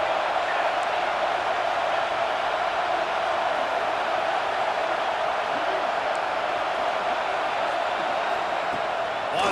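A college football stadium crowd roars steadily on a third down, a dense wash of cheering that holds throughout while a commentator talks over it.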